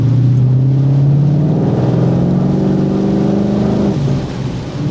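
A 2014 Ford Mustang GT/CS V8 revs and accelerates while driving in the rain, a loud, close engine drone rising in pitch for several seconds before easing off near the end, with no voices over it.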